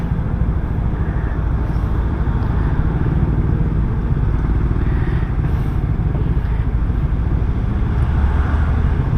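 Steady road traffic in San Fabian, Pangasinan, with engines and motorcycles passing in a loud, continuous roar that fills the whole stretch without pause.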